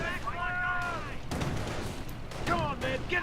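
Calliope rocket barrages from a strategy-game tournament match strike massed infantry, a run of booming impacts and rumbling explosions layered under game voice callouts and music-like tones.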